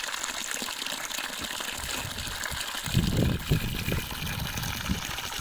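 Water gushes steadily from a hand pump near Kadrapur, a continuous splashing rush with a few heavier surges partway through.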